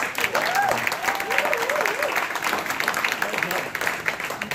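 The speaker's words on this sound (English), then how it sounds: "I would like you to give her one more hand of applause, please." An audience at a London landlord information event applauds, a steady patter of many hands clapping indoors while a speaker talks over it.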